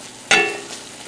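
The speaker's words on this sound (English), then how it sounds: "I'm just going to bring them up to a brisk sizzle" A sudden loud sizzle as apples and onions hit a hot pan, then a steady frying crackle that slowly settles.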